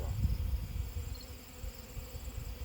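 Honeybees from a freshly hived shook swarm buzz around the hive, a faint, steady low drone with a few louder passes close by.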